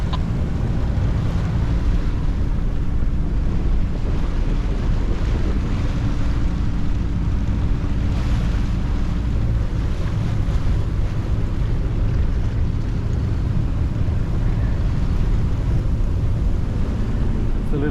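A sailing boat's engine drones steadily beneath heavy wind buffeting the microphone, with water rushing past; continuous, loud, and unbroken, motoring under jib against a foul tide at sea.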